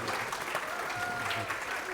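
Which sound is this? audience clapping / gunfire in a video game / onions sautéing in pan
audience clapping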